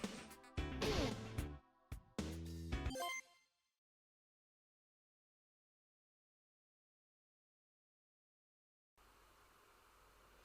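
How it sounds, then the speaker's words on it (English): A phone rings loudly in a few close, sharp bursts of tonal ringing over about three seconds, then silence, ending with a faint background hiss. "I've got to go now because that's my phone going."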